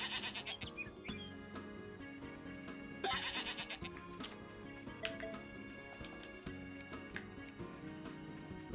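Goats bleat in the farming game Story of Seasons: A Wonderful Life, with repeated nasal calls running over steady background game music and chimes, with no talking throughout.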